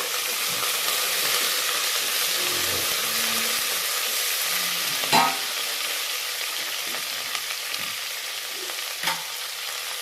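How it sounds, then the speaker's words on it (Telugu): Ginger garlic paste frying in a pan while a hotel-style Kashmiri pulao is cooked, with raisins, mint and coriander already roasting: a steady, close sizzle throughout, with a couple of brief stirring knocks. "ఇప్పుడు కొంచెం అల్లం వెల్లుల్లి పేస్ట్ వేస్తున్నాను"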